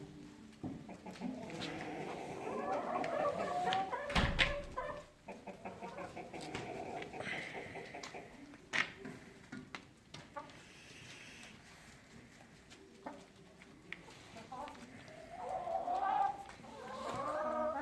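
Chickens cluck and call in a farmyard while eating anchovies, with scattered clucks, a few louder bursts and faint voices in the background.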